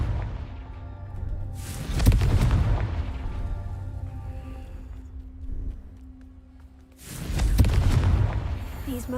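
Explosive blast of the Confringo fire spell in a Harry Potter video game, two loud booming bursts with rumbling tails separated by a quieter stretch of game ambience.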